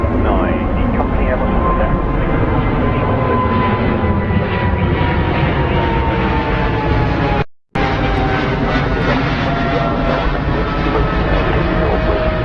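An airliner on a southerly inbound track descends toward the right-hand runway at London Heathrow, its steady loud engine roar with a slowly falling whine filling the whole stretch and a brief dropout midway.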